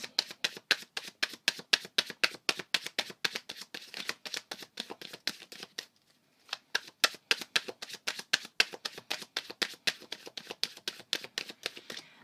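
A deck of tarot cards is shuffled close up in steady, rhythmic riffles, dozens of quick crisp slaps with one brief pause midway, quiet and alone without speech.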